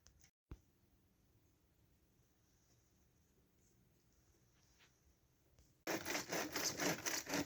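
Wood being sawn into strips in a workshop on an extremely cold night: a long stretch of near-silence with a single knock, then loud, rhythmic, close sawing strokes for the final second and a half.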